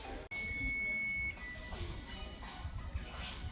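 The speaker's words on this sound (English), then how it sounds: "looks like our oven is beeping" A kitchen appliance sounds one sustained, high-pitched electronic beep lasting about a second, then stops, leaving quiet room noise.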